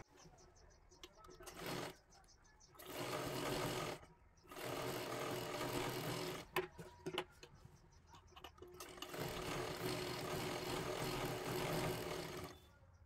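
A sewing machine stitches a blouse sleeve in several bursts of whirring that start and stop, with quiet gaps between runs, close by and moderately loud.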